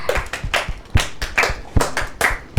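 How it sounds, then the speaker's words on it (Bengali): Group clapping for a child's song, a short run of sharp, loud claps in an uneven rhythm, close by. "আমরা সবাই মিলে একবার হাততালি দেব"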